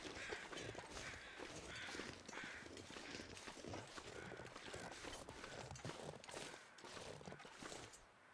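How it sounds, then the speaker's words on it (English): Crows caw intermittently overhead in the survival video game The Long Dark, faint and distant over continuous wind and soft crunching footsteps, with no voices. "Just flying over crows, that's all."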